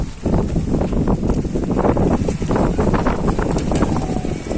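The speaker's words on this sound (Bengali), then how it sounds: "প্রচুর বাতাস" Strong gusty wind buffeting a rooftop garden in stormy, drizzly weather, a continuous rough roar with flapping bursts, loud and close with no talk.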